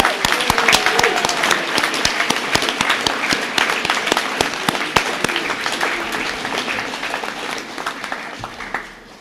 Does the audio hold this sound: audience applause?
yes